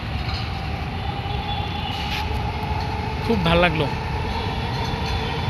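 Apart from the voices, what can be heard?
metro rail train passing by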